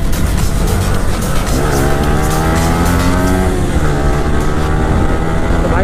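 Vehicles revving hard before a drag race, loud and close, with engine pitch sweeping up and down through repeated rises over a constant roaring wash of noise.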